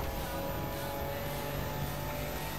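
Car engine with a custom turbo sound in the racing video game The Crew Motorfest, a steady droning whine and hum held at constant level throughout, with no talk.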